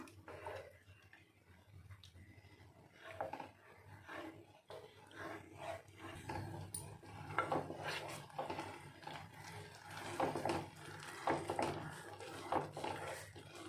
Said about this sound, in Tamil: நல்லா கிளறி கொடுத்துக்கிட்டே இருக்கலாம்